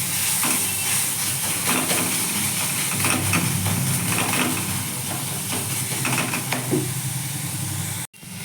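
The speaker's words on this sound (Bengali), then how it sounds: "দিয়ে ভালো করে ভাজবো।" Pumpkin and steamed water spinach fry together in a pan. A loud, close, continuous sizzle and hiss carries on steadily with occasional soft stirring scrapes, then cuts off near the end.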